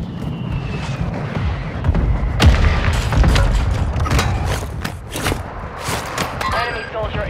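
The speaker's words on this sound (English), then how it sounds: "Mortar strike inbound now." Mortar strike explosions hit during a Plunder match in the game Call of Duty Warzone, loud booming blasts over a continuous rumbling din with sharper impacts scattered through the stretch.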